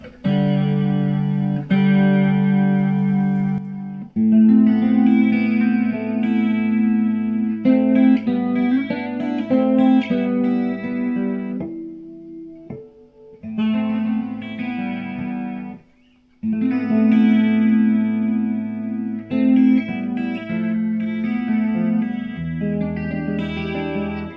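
Clean electric guitar chords and picked notes shimmer through the chorus effect of a Fender Princeton Chorus 2x10 solid-state amplifier, playing continuously with brief pauses, loud and close.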